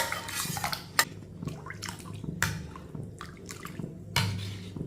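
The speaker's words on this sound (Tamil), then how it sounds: "பருப்புடைய தண்ணி எடுத்து ஊற்றிக்கிடுவோம்" Water from cooked lentils is poured into a pot of soup, making splashing and dripping sounds with a few metallic clinks from a spoon or the pot, close by and quiet.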